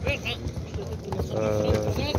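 Horse hooves clip-clopping in a loose rhythm amid a busy crowd at a horse market, with people talking throughout and the hoofbeats partly buried under the voices.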